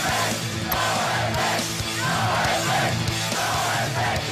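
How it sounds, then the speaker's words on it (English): Hundreds of punk fans chanting and yelling in a hotel lobby while waiting for NOFX, a loud continuous crowd roar with rhythmic swells of shouted chanting. "you could hear these kids chanting and screaming"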